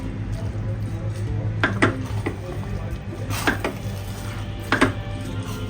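A cooking pot of mango sticky rice is covered with its lid, sharp metallic clanks and scrapes standing out over a steady background hum, with faint talk nearby.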